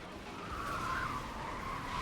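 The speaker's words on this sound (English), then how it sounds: "If you notice these cars that are screeching across" Cars in World of Warcraft's Liberation of Undermine raid screech across with a sustained, high tire squeal over a steady engine roar, loud and close, swelling and fading slightly as they pass.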